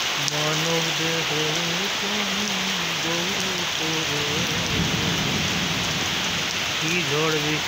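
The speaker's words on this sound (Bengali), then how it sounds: "অবশেষে বৃষ্টি শুরু হলো" Rain finally falling after a spell of intense heat, a loud steady wash of downpour on surfaces that continues throughout, with a melodic voice, singing or chanting, running beneath it.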